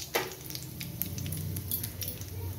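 Whole cloves, cinnamon, mace and cardamom sizzle softly in hot oil, a faint steady crackle with a few light utensil taps over it.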